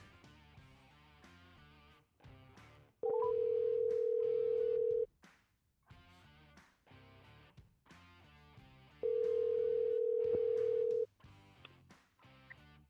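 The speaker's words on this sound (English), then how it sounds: "let's get Jason on the phone" A phone call being placed, with a steady electronic ringback tone sounding twice in long even bursts, separated by background music with no talk.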